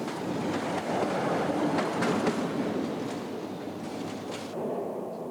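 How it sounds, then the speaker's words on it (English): A train rolls along the tracks with rhythmic clickety-clack of wheels over rail joints, steady and moderately loud, with no talking. "Beneath the monument to Queen Victoria, trains snake out to join the main lines to the Scottish Highlands."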